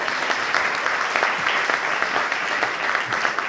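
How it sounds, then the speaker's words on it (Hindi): Sustained clapping from a crowd at an indoor network-marketing training session in Meerut, dense and even throughout, with a few louder claps standing out. "तो उसके लिए भी बुआ जी जितनी ताली होनी"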